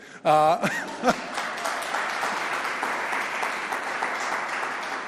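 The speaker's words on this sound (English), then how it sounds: "I saw somebody trying to clap" Scattered audience clapping at a tech entrepreneurship event follows a brief tonal sound at the start, then settles into a steady moderate patter of many hands that continues to the end.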